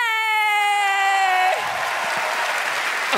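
Audience applause at a live comedy show breaks out after a long sustained tone, a dense wash of clapping from a crowd that carries on steadily to the end.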